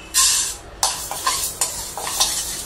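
Moong dal dry roasting in a pan, stirred in a series of distinct rustling, scraping strokes, a few each second, close and fairly loud with no talking.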